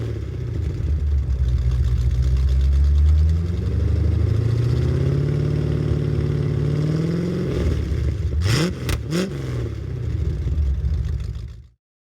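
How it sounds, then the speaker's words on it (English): A 1984 Chevrolet Corvette C4's V8 rumbles through aftermarket dual exhausts, a loud, close, steady low idle with rising and falling revs and a few sharp blips near the end before it cuts off. "aftermarket dual exhausts that give the car a nice low grumble from the V8,"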